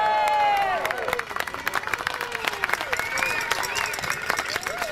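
An audience applauds after a speech by a woman named Sylvie, with clapping and some cheering rising under a tonal, sliding sound at the start and carrying on amid crowd noise.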